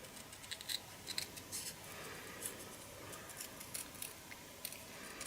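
Small, crisp snips of scissors cutting a feather, a few faint, close clicks scattered over quiet background hiss.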